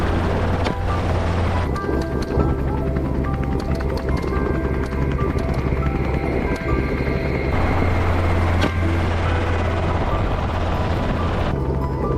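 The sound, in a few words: helicopter flying over wild boars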